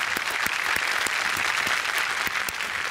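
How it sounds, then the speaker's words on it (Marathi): A studio audience gives sustained, steady applause for a veteran stage actor credited with some 15,000 to 16,000 performances. The dense clapping stays even and full throughout. "त्याच्यासाठी एक जोरदार टाळ्या झाला पाहिजे"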